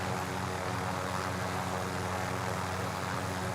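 Helicopter in Call of Duty Warzone flying steadily, a continuous loud rotor and engine drone with low rhythmic thumping and no pauses.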